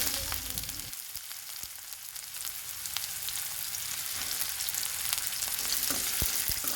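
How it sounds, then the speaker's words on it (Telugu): Sliced onions frying in hot oil for a chicken fry, a steady broadband sizzle that holds loud and continuous throughout with faint stirring clicks and no talking. "ఆయిల్ వేడెక్కిన తర్వాత ఆనియన్స్ వేసుకోవాలండి"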